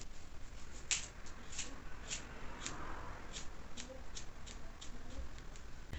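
Scissors snip through layered hair during a salon haircut, a series of crisp, close cuts spaced roughly every half second, quiet and steady over faint room noise, with no talking.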